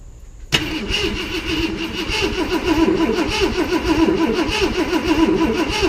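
A Ford Galaxie 500 engine cranks over without catching: a sudden start of the starter, then a steady, loud, rhythmic churning that keeps going without firing.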